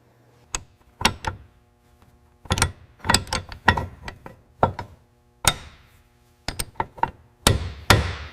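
A main shaft is hammered home into a Spicer Model 18 transfer case during 1941 Willys Jeep assembly: sharp metallic hammer blows, single and in quick clusters, close and loud with short ringing decay.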